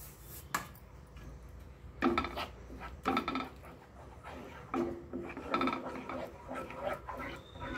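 A spoon scrapes and clinks against a pot as semolina (suji rava) is stirred in for a rava sweet, with a string of irregular metallic scrapes and taps at close range.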